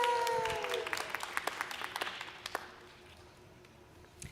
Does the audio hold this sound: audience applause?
yes